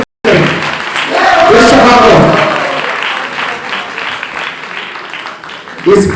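A crowd at a Jain kalash sthapana religious ceremony in Kolkata breaks into loud applause that swells and then slowly fades, with a voice speaking over the start and again at the end.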